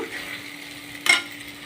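A utensil scrapes and stirs curry in an oiled pan over a steady low sizzle, with one brief clattering scrape near the end.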